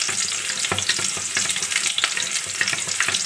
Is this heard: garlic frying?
yes